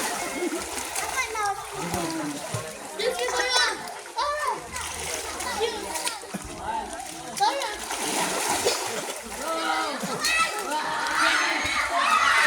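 Children splashing while swimming in the sea at a beach resort, continuous watery splashes and kicks close by, mixed with children's shouts and chatter throughout.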